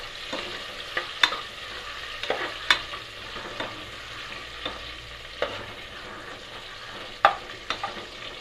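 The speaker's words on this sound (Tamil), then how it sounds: "வெங்காயம் நல்லா பொன்னிறம் வர வரைக்கும் வதக்கிக்கலாம்." Onions and green chillies frying in oil until golden for vegetable biryani, a steady sizzle broken by repeated sharp scrapes and taps of a spoon stirring against the pan.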